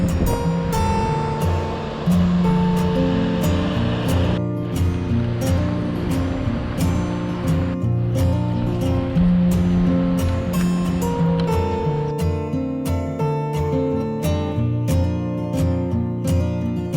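Ocean surf washing steadily at the Champagne Pools on Moreton Island at low tide, a continuous rushing roar with bursts of wind buffeting close to the microphone.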